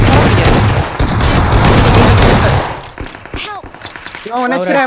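Loud bursts of automatic gunfire from an enemy in a competitive shooting game, a rapid continuous volley for nearly three seconds before thinning into scattered shots with someone talking excitedly over it.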